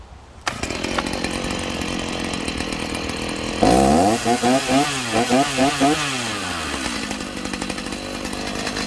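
A Stihl MS 290 chainsaw with a fault that keeps the chain spinning at idle starts up and runs at a close, loud, steady rough idle, with a short stretch of rhythmic throttle blips that rise and fall before it settles back.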